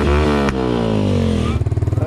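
A motorcycle is ridden past, its engine loud and close with a falling harmonic whine, then a rapid pulsing idle-like chug at the end.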